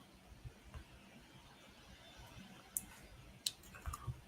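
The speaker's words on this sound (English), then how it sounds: "I'm typing some stuff up" Sparse, faint clicks of typing on a computer keyboard during a live trading session, a few sharper taps near the end over quiet room noise.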